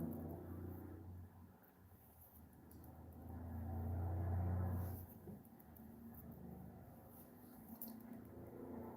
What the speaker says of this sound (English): can hear the traffic is crazy this morning